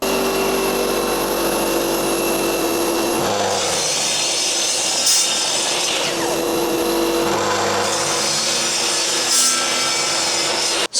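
Handsaw cutting through old wood blocks studded with nails, a steady rasping back-and-forth stroke that stays loud and close for the whole stretch, with brief pauses between passes and no talking.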